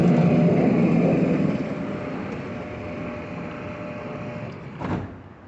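An automatic gate motor running again after its control board was repaired for a conductivity fault: a loud mechanical whir that eases down to a softer steady hum, then ends with a short knock near the close.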